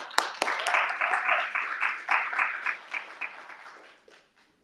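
Audience applause at a society's stage event, a burst of clapping that swells quickly, holds steady for a few seconds, then thins out and fades to quiet.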